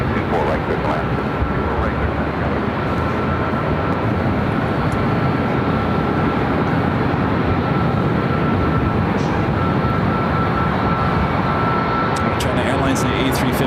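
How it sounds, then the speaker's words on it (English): A China Airlines Airbus A380 rolling down runway 24 left at LAX, a loud, steady, broad roar of jet engines held for the whole stretch, with voices present in the background. "China A380 heading back to Taipei, rolling down to 24 left."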